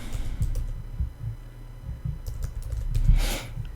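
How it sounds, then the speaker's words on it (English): Quick bursts of keystrokes on a computer keyboard, close and crisp, with uneven rhythm and short pauses, ending in a slightly louder flurry of clicks. "above type the word conclusion"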